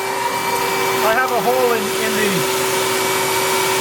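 A vacuum cleaner runs with a steady loud whine and hum, its hose drawing resin through bleeder holes while a kiteboard is being glassed, as someone talks over the drone.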